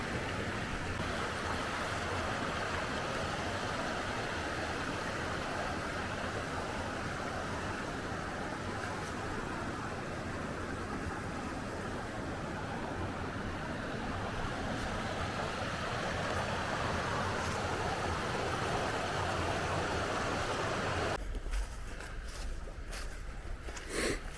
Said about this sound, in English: Trail's right beside the creek. Several little small waterfalls.